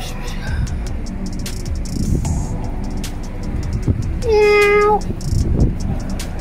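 A single drawn-out cat meow rising over steady background noise and scattered clicks, fairly close.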